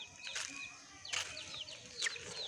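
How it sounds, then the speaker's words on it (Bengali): Baby chicks, some of them ailing and dying, cheep in repeated thin high chirps, a few sharp calls scattered over faint background noise, fairly quiet and with no talking. "মুরগির বাচ্চাগুলি"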